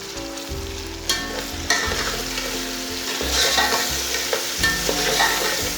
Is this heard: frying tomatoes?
yes